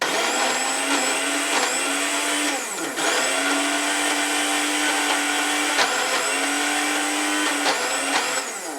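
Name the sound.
blender chopping turmeric and ingredients for satay peanut sauce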